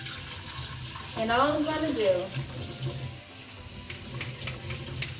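A cold-water tap runs steadily into a sink while gluten dough from spelt or kamut is rinsed, a continuous close wash of water beneath a voice.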